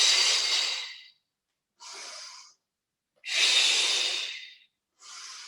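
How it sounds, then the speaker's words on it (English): Close, audible breaths during a Pilates squat, a long breath out, a shorter one in, then another long exhale and short inhale, each breath separated by silence. "Breathe out to lower. Breathe in to come back."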